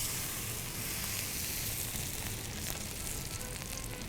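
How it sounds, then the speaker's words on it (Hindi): Peshawari chapli kebabs fry in oil in a pan, giving a loud, dense, steady sizzle heard up close and alone. "देखें जी कितना प्यारा फ्राई हो रहा है।"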